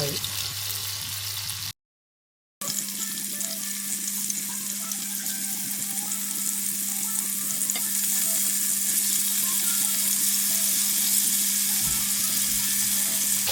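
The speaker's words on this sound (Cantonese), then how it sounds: "將啲豆腐煎香，但係唔好煎到太老喎。" Tofu pieces pan-fry in a pan of hot oil with dissolved salt, giving a continuous close sizzle that cuts out briefly near the start, then carries on evenly with faint stirring.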